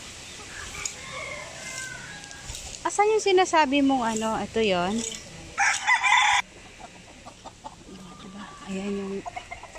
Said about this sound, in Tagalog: Dito sa likod ng bahay mga manok.